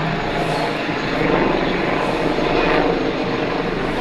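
A helicopter passing overhead near a playground: a steady, loud rumbling engine and rotor roar that swells slightly in the middle, heard outdoors with no talk over it.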